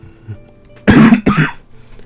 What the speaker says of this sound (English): I am still coughing.